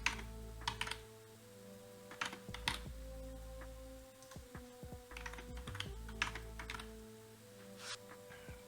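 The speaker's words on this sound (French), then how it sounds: "On va taper le mot de passe." Keys clatter on a computer keyboard while a password is typed in quick bursts of soft clicks separated by short pauses, close but quiet, over a low steady hum.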